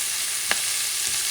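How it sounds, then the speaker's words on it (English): Sofrito with cilantro sautéing in a pan, a steady close sizzle with a soft stir or scrape of a utensil partway through, brief and with no voices. "Mixing it up, sauteing things."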